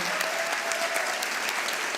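Audience applause for a conference moderator at a literary dialogue event, a steady dense wash of clapping throughout with no voices over it.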